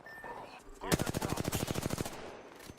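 A rapid burst of video game automatic gunfire, about a dozen sharp evenly spaced shots in quick succession, fairly close, with faint sound before and after.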